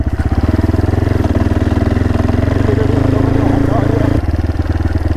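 Motorcycle engine running while riding, a loud, steady throbbing drone with dense rhythmic pulsing and a brief dip near the end, heard up close.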